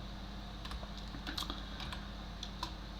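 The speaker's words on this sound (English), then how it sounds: "I type this code to understand better" Computer keyboard keys tapped while entering C++ code, scattered quiet clicks in uneven bursts over a steady low room hum.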